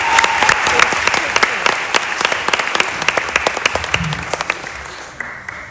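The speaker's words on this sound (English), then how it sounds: "give a big heartfelt round of applause to this lady" Audience applause fills the room at a senior-night keynote, steady clapping from many hands throughout, fairly loud, with a few sharper near claps standing out and the ovation thinning toward the end.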